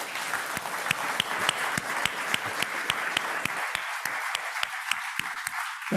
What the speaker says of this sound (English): There's going to be a rather thunderous round of applause now